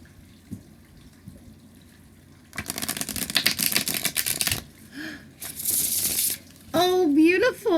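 A sharp, fluttering rattle of cards being riffled and shuffled, close up, followed by a quieter bridging riffle and then a voice speaking.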